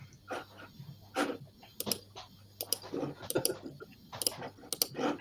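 A computer mouse being clicked rapidly, with irregular sharp clicks in quick clusters over a faint low hum.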